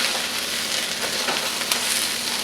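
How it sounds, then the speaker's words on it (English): Egg and fried rice with soy sauce are stir-fried in a hot pan, giving a loud, dense, continuous sizzle with faint scraping from the stirring, close up and with no talking. "So we'll get this all stir fried up."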